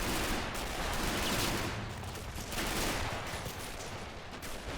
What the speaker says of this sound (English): there's a lot of machine gun fire from those advancing tanks and infantry as well